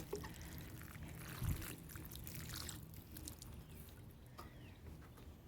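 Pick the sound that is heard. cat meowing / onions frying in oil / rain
rain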